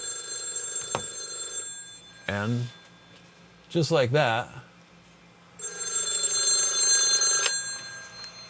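A telephone on a home lab phone line rings in several loud bursts with gaps between, a person speaking briefly in between and over the start.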